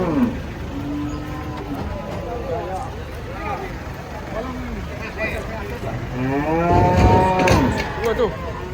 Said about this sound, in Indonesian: Ngamuk guys, sapi ini ngamuk.